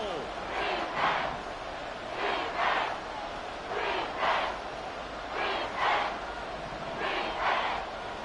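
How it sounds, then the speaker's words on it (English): A stadium crowd roars inside the Dome during a football game, swelling in rhythmic waves of chanting every second or so, loud and steady throughout. "The crowd here in the Dome making things difficult"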